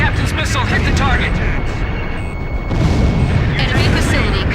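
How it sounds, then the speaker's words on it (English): Missile explosion in the Ace Combat 5 air-combat game, a loud continuous boom and rumble under jet engine noise, with radio voices talking over it throughout. "The captain's missile hit the target."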